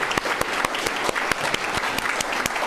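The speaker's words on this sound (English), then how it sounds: "Big round of applause for the team" Audience applause for an event team at a talk, a dense, steady burst of many hands clapping throughout, fairly loud and close with no voices over it.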